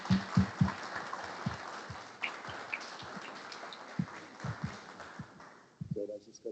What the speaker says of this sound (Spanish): queríamos premiarlo con un fuerte y caluroso aplauso